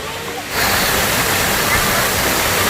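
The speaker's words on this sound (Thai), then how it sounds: "ดูมีน้ำตกนี่เห็นไหม" A sudden, loud rush of falling water from a waterfall in Mae Kampong, Chiang Mai, fills the clip after a brief quieter moment, a dense, continuous roar close by.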